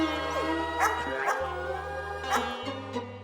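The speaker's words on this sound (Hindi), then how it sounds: "ये तो कोई और डॉगी है।" A dog barking and yipping in a domestic scene, several short barks and a whimpering yelp over a steady musical background hum, fairly close.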